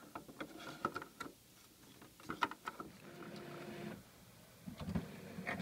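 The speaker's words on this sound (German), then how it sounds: "nachdem der Drucker jetzt irgendwie relativ lange gebraucht hat, bis er endlich die Patronen geschluckt hat" An HP Officejet 6600 all-in-one inkjet printer drawing in freshly inserted ink cartridges, with irregular mechanical clicks, whirs and carriage movements close by, pausing briefly before a sustained motor hum and further clunks.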